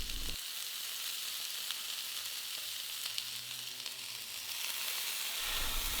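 Beef tenderloin sears in a pan with skin-on garlic cloves, giving a steady, close, bright sizzle of hot oil that holds evenly throughout with no talking.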